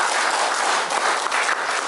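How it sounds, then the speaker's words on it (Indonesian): Applause at an installation ceremony for a local radio club's officers in Banyuwangi, dense and continuous clapping from a gathered audience, brief and fairly loud. "Tepuk tangan buat Pak Teguh"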